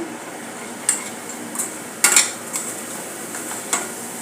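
Garam masala and cumin powder stirred into a green moong vadi gravy in a pan, heard as a handful of sparse spoon clinks and scrapes against the metal with quiet gaps between them and no talking.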